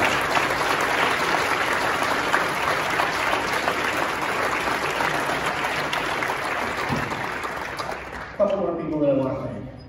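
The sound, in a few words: audience applause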